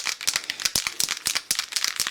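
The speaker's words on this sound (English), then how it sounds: "You can hear there's like a ball in there that just agitates everything." A metal aerosol paint can for a BMW E91 330d bumper is shaken hard, its mixing ball rattling in a fast, steady series of sharp clicks, loud and close with no talk.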